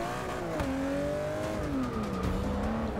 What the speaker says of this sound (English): I think this car has a turbocharger